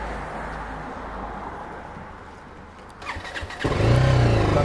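A naked motorcycle starts up at a self-service gas station, its engine catching about three seconds in and settling into a loud, steady idle after a quieter stretch of background noise.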